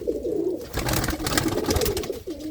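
Desi pigeons from the Gurdaspur area coo in a low, throaty roll, several repeated calls close by and loud with no voices over them.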